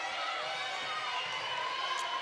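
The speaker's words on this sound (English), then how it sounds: "Crowd's getting loud now." Steady crowd roar at a high school volleyball match between Wakefield and Beverly, a dense, continuous wash of voices holding loud throughout with no single shouts standing out.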